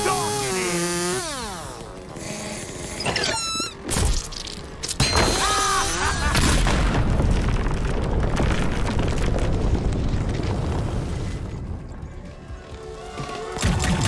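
Bomb explosion in the first-person shooter game High On Life: loud booming blasts and crashing debris rumble through a dense, chaotic game soundtrack, with sweeping sci-fi effects and bursts of noise throughout.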